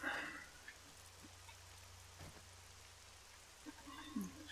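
Soft, steady rain in the video game 7 Days To Die, a faint hiss of drops with a low hum beneath and a few scattered louder taps.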